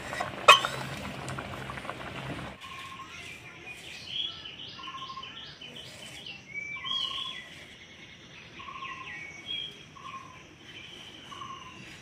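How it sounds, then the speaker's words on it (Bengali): Rohu fish curry simmers in a pot with a soft, steady bubbling, faint and close, while birds chirp repeatedly in the background. "তরকারিতে জাল উঠে গেছে, এখন আমি মাছগুলো ছেড়ে দেবো।"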